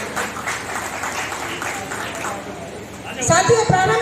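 Dense, steady crowd applause fills an honour ceremony for former soldiers and war widows in Mirzapur, Jewar, then tapers as a voice begins speaking near the end.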